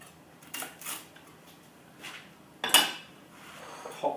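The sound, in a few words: knife cutting garlic sourdough toast into fingers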